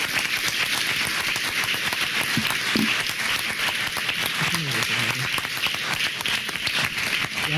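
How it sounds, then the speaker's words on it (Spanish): A conference audience at Learnovation Day 2012 applauds after a talk, a dense, continuous crackle of many hands filling the hall at steady volume, with a few voices faintly audible beneath. "Un gran aplauso para Eric, por favor"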